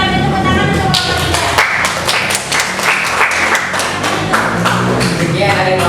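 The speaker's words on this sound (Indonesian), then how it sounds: "kita beri tepuk tangan untuk kelompok" A classroom of students claps together for a group, a dense, loud round of hand claps lasting several seconds, with voices mixed in.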